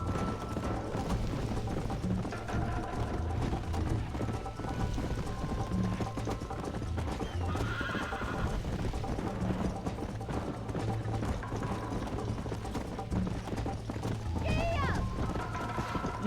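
Horse hooves clip-clop at a steady gallop in the Red Dead Redemption video game, continuous and fairly loud, with gear-like clatter and occasional whinnies over a low rumble, while a player talks intermittently.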